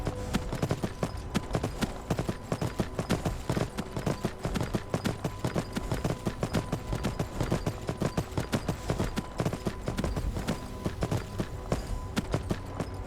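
Horse hooves clip-clopping steadily in Skyrim, a continuous rhythmic trot of close, distinct hoofbeats over a faint outdoor ambience, with no talking.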